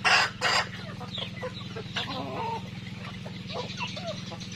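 Young F1 pullets, an Anglo and native chicken cross, cluck on a farm on a morning: a couple of loud close squawks open, then softer scattered clucks continue over a constant low hum.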